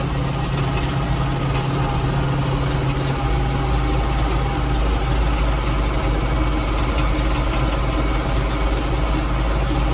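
A John Deere 3095D tractor engine running steadily at around 600 to 1500 rpm, a loud continuous low diesel drone close by with no talking.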